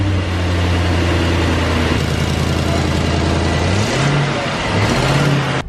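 An Audi R8 engine runs with its exhaust freshly clamped down, a steady low idle drone that dips and shifts pitch near the end, close and loud throughout.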